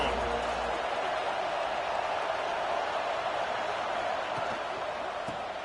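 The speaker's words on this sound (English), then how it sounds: "This crowd ready to make its presence known." Stadium crowd at a Missouri vs Auburn college football game, a broad, steady roar of distant cheering and applause filling the whole stretch with little variation.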